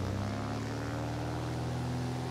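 Plane engine in the War Thunder video game, a steady low propeller-style drone with strong sustained hum, loud and constant throughout.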